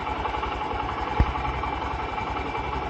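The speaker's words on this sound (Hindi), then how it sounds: "गाड़ी पहले थोड़ा आइडल पे चालू करके रखा है।" A car engine idles steadily on a cold day, a low continuous rumble with even vibration, close by, with one brief bump midway.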